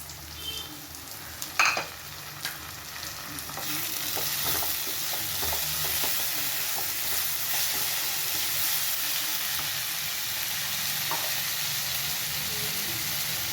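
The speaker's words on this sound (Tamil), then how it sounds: "இப்போ வந்து நம்ம கட் பண்ணி வச்சுருக்க தக்காளி இது கூட சேர்த்துக்கலாம்." Chopped tomatoes drop into a hot pan for a prawn thokku, then a continuous dense sizzle settles in with intermittent stirring scrapes, close and steady without any talk.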